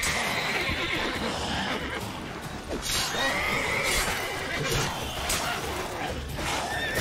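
A horse in The Witcher 3 lets out a long, loud neigh over steady game ambience and hoofbeats, with no speech.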